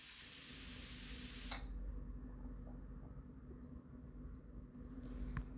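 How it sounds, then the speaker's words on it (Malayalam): A pressure cooker holding chicken mandi rice releases steam in a loud, steady hiss that cuts off after about a second and a half, leaving a quieter background. "കുക്കർ എയറൊക്കെ ഒന്ന് റിലീസ് ചെയ്തിട്ട് കുക്കർ നമ്മൾ ഓപ്പൺ ചെയ്യാം"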